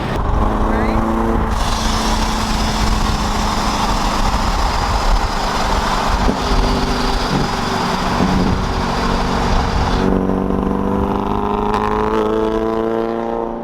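A boosted Subaru BRZ engine runs through its muffler as a steady, close exhaust drone heard from inside the car, holding a continuous rumble for the whole stretch with a slight shift in tone near the end.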